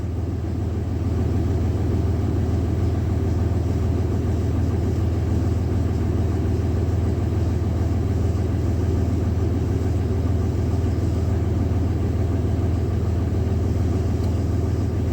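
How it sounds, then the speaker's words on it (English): An air compressor runs and builds pressure in a garage beside a 2003 Dodge RAM 3500 dually, a loud, steady low droning hum with constant motor noise, heard alone and unbroken. "Man, that thing pumps a lot of air"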